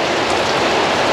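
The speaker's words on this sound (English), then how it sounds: "I'm still waiting here because it's raining" Steady rain falls outdoors, a dense, even hiss of drops with no pauses across a brief stretch and no voices.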